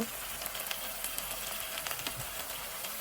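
Onions and chillies frying together in a pan as the base for beef curry, giving a steady, soft sizzle with faint scattered crackles and light clinks throughout, no voices.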